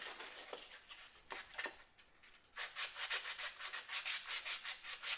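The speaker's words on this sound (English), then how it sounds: "Just take a piece of sandpaper, put it on the lathe bed." Sandpaper laid flat on a wood lathe bed rasps back and forth in quick, rhythmic strokes, scattered rubs at first, then a steady, louder series of close scrubbing passes with no talk.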